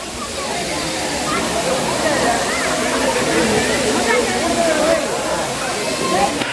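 Kailasa Kona Falls pours in a steady, loud wash of falling water, a dense continuous rush with splashing texture that holds even from start to finish, with no voices over it.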